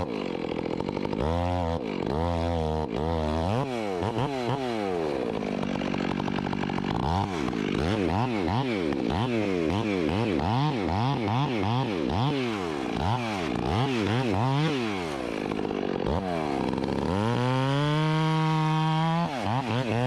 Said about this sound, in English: Now notice I'm also kind of pulling my saw backwards and forwards, kind of like a handsaw.